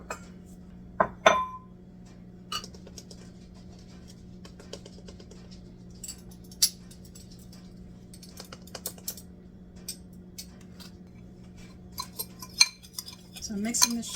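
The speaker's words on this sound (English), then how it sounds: "So I'm mixing the sugar and the cocoa powder together." A spoon works sugar and cocoa powder together in a bowl, giving faint, scattered clinks and scrapes against the bowl at irregular intervals, with a sharper tap near the start and a busier cluster at the end.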